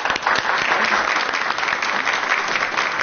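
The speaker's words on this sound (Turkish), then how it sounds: "Hadi alkışlar şunu da." A studio audience breaks into applause on a Turkish talk show, a loud, dense and steady stretch of clapping filling the whole moment with no speech.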